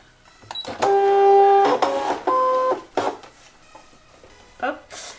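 A fabric cutting machine whirs in short mechanical bursts with steady tonal hums and clicks, close and moderately loud, alternating with brief pauses.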